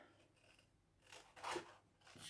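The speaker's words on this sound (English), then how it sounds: "Cut that up. Big scissors. Cut that up on your score line" Big scissors snip through paper along score lines, a couple of quiet crisp cutting strokes close by in an otherwise hushed room.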